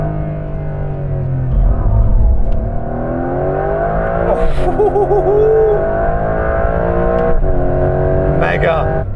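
A new Porsche 911 engine revs hard toward its 7,500 rpm redline, a loud, rising harmonic howl that builds and surges continuously with brief shifts, close and dominant throughout.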